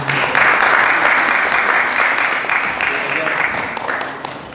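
Audience applause for a pastor of a Foursquare church at a Christmas gathering: sustained, dense clapping from a crowd, loud at first and tapering slightly toward the end, with some voices mixed in.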